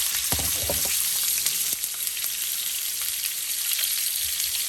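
Minced meat frying in about a tablespoon of oil in a frying pan, a steady close sizzle with a few louder crackles and spits near the start, no voices over it.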